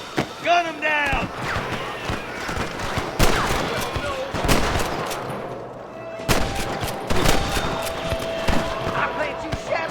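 Scattered sharp gunshots and bursts of fire ring out as cowboys fight rustler guards in Red Dead Redemption, irregular and punchy, with shouting voices, footsteps and other game action between the shots.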